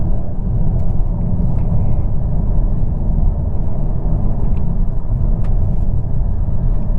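A 2023 Nissan Altima SR VC-Turbo engine pulls under light throttle with a loud, continuous low rumble and road drone heard from inside the cabin, with no talking.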